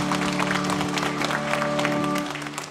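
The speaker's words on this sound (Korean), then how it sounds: "우리 주님께 영광의 박수 올리겠습니다." Congregation applause during a Korean Sunday church worship service, dense clapping over a held organ or keyboard chord, steady and then easing off near the end.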